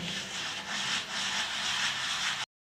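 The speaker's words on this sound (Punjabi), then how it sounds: "ਇਹ ਹੁਣ ਆਪਾਂ ਖਸਖਸ ਨੂੰ ਰਗੜਦੇ ਆ" Poppy seeds being ground by hand with a steady rubbing, scraping motion in a home kitchen, a close, continuous gritty sound with slight rhythmic swells, no voices.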